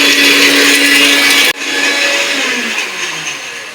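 A small mixer grinder whirs loudly as it grinds Oreo biscuits, a steady high-pitched motor roar that cuts off abruptly and then spins down with a fading whine.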